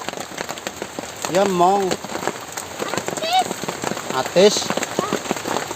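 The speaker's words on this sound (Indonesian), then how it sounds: "Hujannya besar." Heavy rain pours down steadily throughout, a dense hiss close by, while someone speaks briefly over it and other voices call out.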